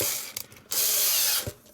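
A low-charge electric screwdriver drives a screw into an Atari 2600 Heavy Sixer console during restoration, giving a brief, faint mechanical whir broken into two short bursts with ratcheting clicks.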